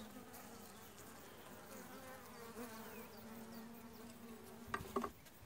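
Honeybees buzz steadily around an open hive during an inspection of a weak colony, a dense close drone throughout with a few brief clicks and knocks of frames near the end.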